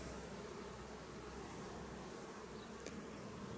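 Honeybees swarm at a busy hive entrance in a steady, dense buzz that stays even throughout.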